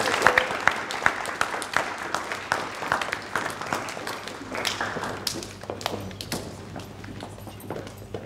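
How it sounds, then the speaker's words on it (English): School awards ceremony audience at Co-op Academy Priesthorpe applauding the winners, sparse individual claps and taps that fade gradually, moderately near, with no talk. "can we have a round of applause for the winners first?"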